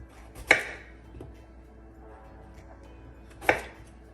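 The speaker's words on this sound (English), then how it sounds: "we've got a turnip to chop" A knife chops through a turnip on a cutting board with two crisp, separate thunks about three seconds apart, close and clear in a quiet kitchen.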